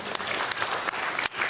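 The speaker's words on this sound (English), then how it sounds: "we can clap because our service is over" A congregation claps to welcome Congressman Harder at a Yom HaShoah remembrance service, a brief burst of steady applause close by with a few sharper individual claps.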